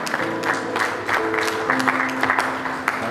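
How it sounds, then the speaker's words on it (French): Audience applause at a gospel show, brief clapping and cheering from a crowd mixed with sustained musical tones underneath, moderately loud throughout. "faites un max d'applaudissements pour vous-même"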